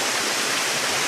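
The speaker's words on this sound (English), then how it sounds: "about 40-foot waterfall. Water level's a little low today" Roughly 40-foot Sill Branch Falls in Cherokee National Forest, Unicoi County, Tennessee, running at low water, gives a loud, close, continuous rushing roar with no other sound over it.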